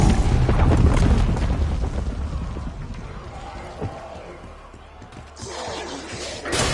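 A large explosion in the video game Black Ops 6 booms loudly at the start and rumbles away, followed by further blasts and gunfire-like bursts toward the end.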